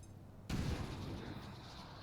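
A grenade blast in the video game XCOM 2 (Long War of the Chosen) lands abruptly after a quiet moment, a sudden heavy boom that rumbles low and trails into a short noisy decay.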